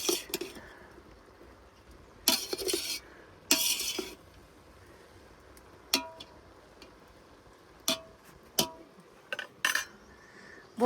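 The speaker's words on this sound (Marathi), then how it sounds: "छान असं फोडणी देते, वरण फोडणी द्यायचे अजून." Spices crackle in hot oil for a bitter gourd curry tempering, with a few sharp bursts of sizzle and spoon clatter against the pan between quieter stretches of low kitchen background.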